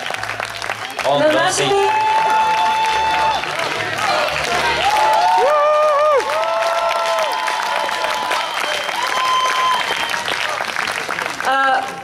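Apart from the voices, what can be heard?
audience applause and cheering for the DJs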